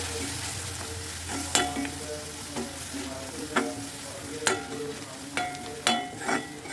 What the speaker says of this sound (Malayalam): ഒരു സ്പൂൺ മുളക് പൊടി ചേർത്ത് നന്നായിട്ട് വഴറ്റാം.